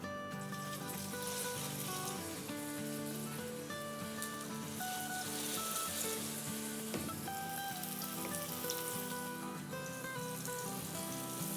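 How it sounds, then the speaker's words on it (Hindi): Salisbury steak patty sizzling in hot oil over medium heat, a steady dense crackle and spatter running throughout at close range with no talk. "इसको हम फ्राई करेंगे ईच साइड पे 3 से 4 मिनट"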